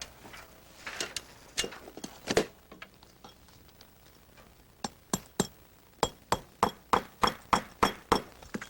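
Pneumatic nailer driving nails into asphalt roof shingles, a run of sharp, evenly spaced bangs gathering into a fast steady rhythm near the end, close and loud.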